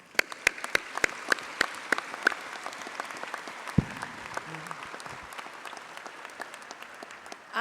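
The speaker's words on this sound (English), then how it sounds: "I want to give you all an incredible round of applause." Commencement crowd applause at a community college ceremony, sharp individual claps ringing out over a broad sustained patter, moderately distant and fading slightly, with a brief low thump partway through.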